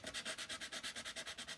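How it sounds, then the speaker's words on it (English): A piece of paper card is sanded by hand with quick, even back-and-forth strokes, about a dozen soft rasping passes in a steady rhythm, close and quiet. "sand that piece down"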